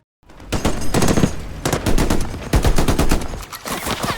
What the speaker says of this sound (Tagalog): si Falk ay nagbukas ng putok gamit ang kanyang machine gun